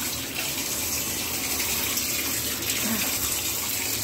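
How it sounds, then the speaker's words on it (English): Water pours steadily from a tap into a bathtub for a Doberman, a continuous hissing gush with a slight splash, close and fairly loud. "Watch out, here come the water"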